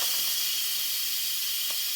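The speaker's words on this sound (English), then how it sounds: "I'm going to release the valve. This is going to be loud and chaotic" Steam hisses steadily from a pressure cooker's valve as it is released while black-eyed peas and rice cook, a loud, continuous broadband rush that holds level for the whole stretch with no talking.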